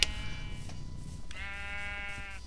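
Sheep in the Minecraft video game give two short bleats, a brief one then a longer, steady synthetic-sounding bleat, clear and close with no talk.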